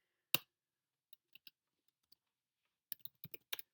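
A computer keyboard is typed on, quiet and close, in a few short scattered clicks and then a quick burst of keystrokes near the end.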